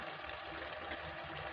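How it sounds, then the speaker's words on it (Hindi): Water pours steadily into a potato and tomato curry cooking in a pan, a continuous close splashing rush without pauses and no voices. "इसमें मसाला लगा पानी मिला देंगे।"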